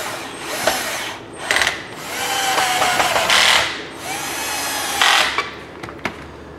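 Screws being driven into the HVAC control panel of a 2001-2005 Honda Civic, with a few short bursts of driving and clicking interrupted by rubbing and handling noises, close up and without talking.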